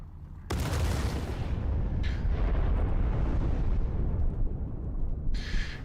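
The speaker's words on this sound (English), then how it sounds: "Is somebody like sending torpedoes my way?" Torpedo explosions in Star Citizen: a sudden heavy blast opens into a long, deep rumbling roar that stays loud and continuous, with sharper cracks flaring near the start and again near the end.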